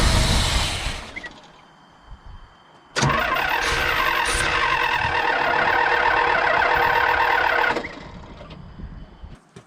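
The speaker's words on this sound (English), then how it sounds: "I'm just going to give that a crank and see if we're getting anything out of the fuel pump" A 1978 Pontiac Trans Am engine cranked during a revival, a close loud whirring starter motor grinding steadily for about five seconds without catching, then falling away to quiet.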